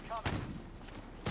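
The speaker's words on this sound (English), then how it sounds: "Oh, shotgun!" A shotgun blast in Call of Duty: Warzone, a short sharp boom near the start followed by a second burst near the end, with a voice talking over the gameplay.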